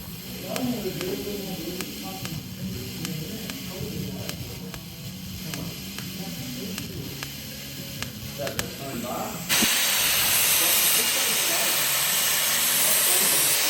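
Flap disc grinding a metal part on a twin-turbo small-block Pro Mod race car build, a loud, steady harsh hiss that kicks in abruptly partway through, after a stretch of workshop noise and talking.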